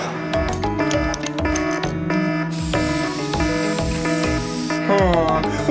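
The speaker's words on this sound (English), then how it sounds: "I have to spray paint this camera." A spray paint can hisses onto a security camera in a long, steady burst of bright hiss, heard over a rhythmic background beat with music-like tones.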